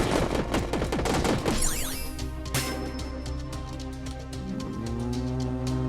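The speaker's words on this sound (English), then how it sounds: "More shotgun." Shotgun blasts in the sci-fi shooter Alien Slayers amid dense game effects: rapid booming shots early on, then ringing synthetic tones and sweeping sounds over a loud, continuous music and combat bed.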